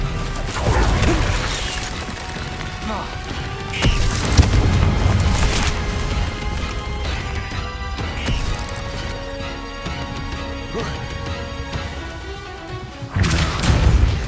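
An Expelliarmus spell cast in the video game Hogwarts Legacy lands as loud crashing, whooshing impacts with sharp bursts near the start and end over a dense, continuous game soundscape.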